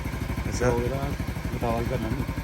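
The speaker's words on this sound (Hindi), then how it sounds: "हम ये वाली बाइक पे जाएंगे।" A motorcycle engine idles and runs steadily in a rhythmic, pulsing throb close by, with people talking over it throughout.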